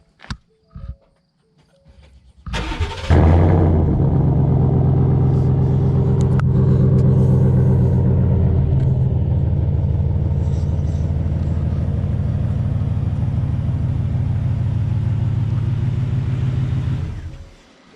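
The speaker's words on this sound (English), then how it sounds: "Here, Dan, start your truck one more time." Ford F150 pickup engine cranks briefly after a few clicks and knocks, catches, then idles with a steady, loud rumble for over ten seconds before shutting off, recorded up close without talk.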